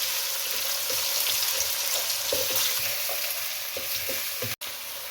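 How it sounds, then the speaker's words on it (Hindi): Two medium sliced onions fry in hot oil for an aloo matar keema, giving a steady close sizzle with soft crackles and occasional clicks of stirring, with a brief dropout near the end. "अब प्याज को इसके अंदर फ्राई कर लें।"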